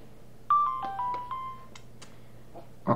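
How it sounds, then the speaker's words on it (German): A phone plays a short melodic text message notification tone of several bright chiming notes, clear and prominent over a quiet background, with a brief extra sound at the end. "Okay, ich habe gerade eine SMS"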